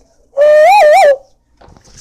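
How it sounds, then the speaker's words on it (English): A mourning dove gives one loud, close, wavering coo lasting under a second, followed by quieter rustling. "those kind of birds that make that kind of noise, the mourning doves"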